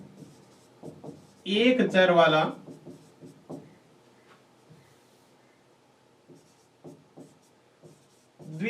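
Chalk or marker scratches on a board during a maths lesson, short strokes scattered through a teacher's speech in a quiet room.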